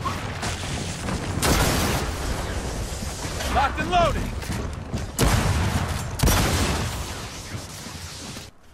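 Gunfire and explosions from the video game Gears of War 4 come in loud bursts and booms layered over dense battle noise, with brief quieter gaps between volleys.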